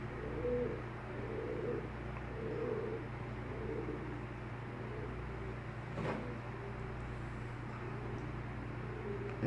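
Pigeons coo softly and repeatedly beneath a steady low hum of background noise, with one brief sharp click partway through and no talking.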